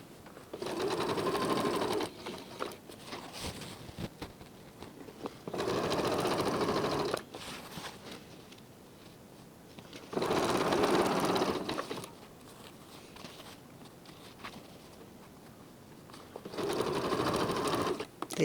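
A sewing machine stitches a trouser waistband in several short bursts of rapid mechanical whirring, separated by quiet pauses, close and clear with no talking.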